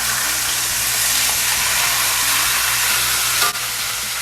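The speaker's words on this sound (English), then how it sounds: "And we'll sear the other side." A big piece of chuck roast sears in a hot pan for a Tuscan stew, a loud, continuous sizzle up close with a brief bump as the meat is moved near the end.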